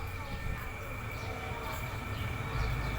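A special express train pulls into Ratchaburi station in Thailand. Its rolling rumble sits under a sustained high metallic whine, with a voice audible over the station noise.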